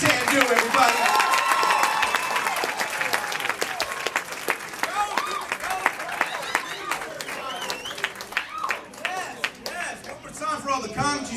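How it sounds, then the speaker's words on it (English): Comedy club crowd at the Punchline applauding comedian DJ Sandu, loud dense clapping with cheers and a host talking over it that thins into scattered claps. "Start, clap your hands for DJ Sandu, everybody."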